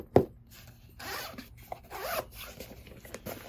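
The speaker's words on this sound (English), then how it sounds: "these zippers are super smooth now" A zipper on a 2023 Babolat Pure Aero team tennis racket bag is pulled in a few quick, smooth runs, one sharp tug at the start and softer zips after, quiet and close.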